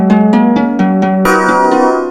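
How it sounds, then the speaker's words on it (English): A harp sample previewed on a MIDI beat machine plays a short tune, loud plucked notes in a quick even run, the strings ringing on and blending into a sustained wash at the end. "I used the harp, but it's not inside the beat machine."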